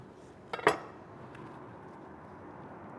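A knife slices into crispy fried cheeseburger egg rolls, making one short, close crunch about half a second in that fades into near silence.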